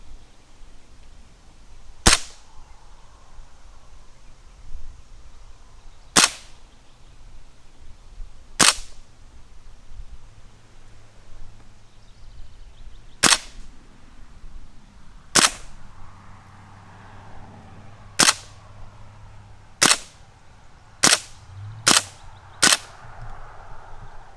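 A WWII-style BB gun fires about ten sharp, crisp shots at a target outdoors, widely spaced at first and then quicker near the end, each a brief snap over faint background noise and light wind.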